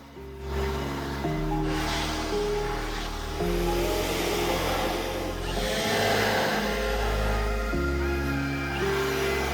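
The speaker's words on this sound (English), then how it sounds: "Trapped water is blasted out of different areas of this car." Compressed air blasting trapped water out of crevices on a car during drying after a wash, a loud steady hissing rush that swells and fades in bursts over a low droning hum.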